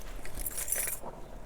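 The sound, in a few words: keys jangling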